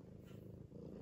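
A cat purrs close and soft in a steady low rumble that continues throughout the short moment, with no voices.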